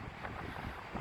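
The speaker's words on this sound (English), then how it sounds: "it's rainy, it's windy" Gusting wind and rain buffet the microphone outdoors on Blackpool promenade by the sea on a cold day, a steady broadband roar with no talk.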